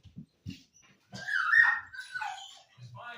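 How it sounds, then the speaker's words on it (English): Dogs at home whimper and whine in short, uneven bursts, rising into higher yips and barks, fairly close and loud with no other sound. "now I've got dogs bugging me"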